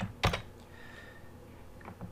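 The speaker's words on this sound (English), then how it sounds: "I just go to Google, and I'm going to go ahead and type in bicycle." A computer keyboard being typed on for a search, heard as a few soft, close clicks with one sharper keystroke early, then a near-quiet stretch and a couple of faint taps at the end.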